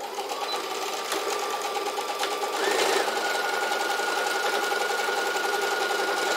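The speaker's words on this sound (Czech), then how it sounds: "Šijeme po rubu tam, kde je vidět více toho elastanu." Sewing machine stitching elastic fabric with straight stitches along the edge of a sleeve, a steady fast mechanical whirring hum, close and continuous, speeding up slightly partway through.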